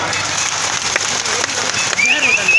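A crowd at a Paraja (Kui) community cultural program in Assam claps loudly, a thick wash of applause with a whistle-like tone rising near the end.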